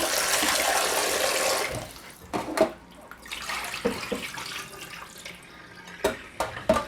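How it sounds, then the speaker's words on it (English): Salted mackerel rinsed under a running kitchen tap: a loud gush of water for a couple of seconds, then irregular splashes and trickles as the fish are handled in the stream, no talking. "I'm just going to rinse these off because they're really salty."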